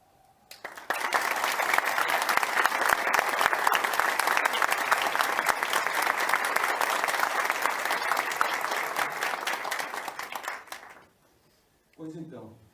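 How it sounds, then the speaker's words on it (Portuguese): An audience at an academic lecture on e-sports breaks into loud, sustained applause lasting about ten seconds, dense and even, before fading into quiet and a short burst of sound at the end. "a gente faça uma salva de palmas"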